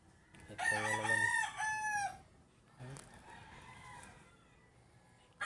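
A white hatch gamefowl rooster crows once, close and loud, its long harmonic call wavering then fading, followed by softer clucks and faint yard noise.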